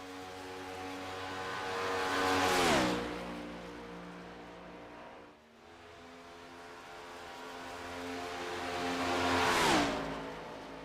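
Next Gen stock cars on a superspeedway, two passing one after another, each engine roar swelling from a distance to a loud peak and then dropping in pitch as the car races away.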